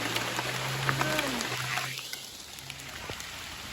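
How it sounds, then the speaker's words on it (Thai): Steady rain falling outdoors during mushroom foraging, a dense even patter with scattered drops, fairly loud and close, easing slightly toward the end with a low hum underneath. "ฝนกำลังตก พี่น้อง"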